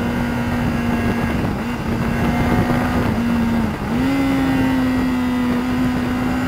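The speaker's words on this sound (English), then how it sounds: "Using that gearbox just to slow the bike down a little bit, because then we're in a nice gear for the corners." Kawasaki GTR1400 Concours motorcycle engine braking down through the gears on narrow twisty roads, a steady droning engine note with wind rush that dips briefly and resumes at a higher pitch after a downshift.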